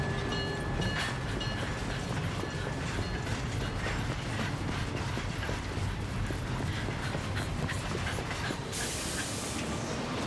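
An airport train in the game Syberia: The World Before rumbles and clatters steadily, with rhythmic mechanical clicks and rattles, moderately loud throughout and no talking.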